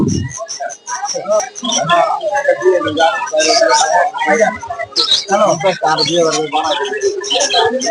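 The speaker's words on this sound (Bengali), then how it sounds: "সেখানে বিভিন্ন ধরনের বিদেশি পাখি বিক্রি করা হয়" Many foreign cage birds for sale at the Mirpur-1 bird market chirp, tweet and coo densely and continuously at close range, filling the whole stretch with overlapping calls.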